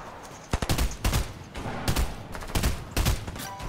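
Gunfire rattles through a shooter video game in several sharp bursts and single cracks spread across a few seconds, loud and close, with no talk over them.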